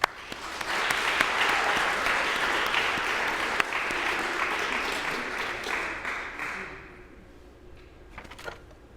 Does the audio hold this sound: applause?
yes